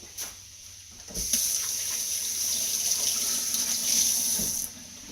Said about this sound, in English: And quick wash of the hands.